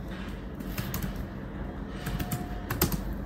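Fingers tap out a short word on a computer keyboard, a quick irregular run of light plastic key clicks up close, with faint room noise between strokes.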